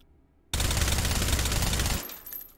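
A sustained burst of suppressed FAMAS carbine fire in the H3VR shooter simulation, with dense rapid automatic shots running for about a second and a half and then cutting off into a short fading tail.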